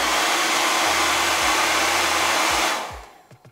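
Hair dryer on its turbo high-heat setting, a loud, steady broadband blowing roar close by for nearly three seconds before it cuts off and spins down.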